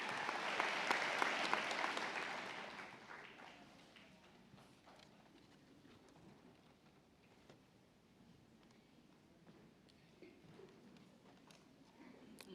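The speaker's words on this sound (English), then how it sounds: "Let's give her a round of applause as Dr." Warm audience applause at a nursing school convocation during a doctoral hooding swells briefly for the first few seconds, then fades away into a quiet hall with faint shuffling and scattered soft sounds.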